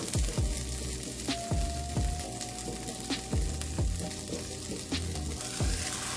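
Birria taco tortillas dipped in sauce frying in a pan, a steady soft sizzle with occasional sharp pops and clicks, close and quiet with no talk.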